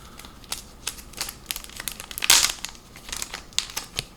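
Plastic wrapping on CDs being handled, a series of sharp crinkles and crackles in irregular bursts, with one louder rustle in the middle, close and without talk.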